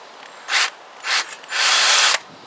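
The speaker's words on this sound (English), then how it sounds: "Drill those rivets out." Three short bursts of a high-pitched drill whining as it drills out rivets on a Zontes Tiger 125 motorcycle frame, the last one longer, close by with no talking.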